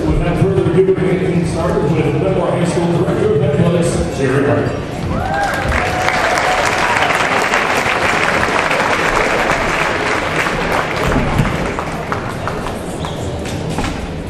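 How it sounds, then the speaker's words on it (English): Crowd applause fills a community celebration for a Class 3A state champion high school boys basketball team, a dense sustained clapping that swells after a spoken introduction and continues loudly to the end. "a round of applause for your IHSA boys basketball 3A state champion"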